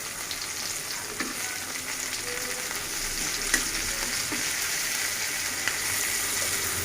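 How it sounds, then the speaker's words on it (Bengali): Hilsa fish sizzling and frying in oil, a steady close crackle with a few stirring knocks and scrapes over the continuous hiss, no talking. "তো আমরা দেখতে পাচ্ছি মাছটা এখনো ভাজা হচ্ছে।"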